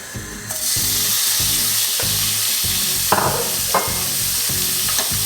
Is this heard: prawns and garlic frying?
yes